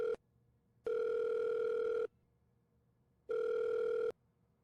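Telephone ringback tone on an unanswered call, steady electronic rings of about a second each with long silent gaps, heard alone and moderately loud.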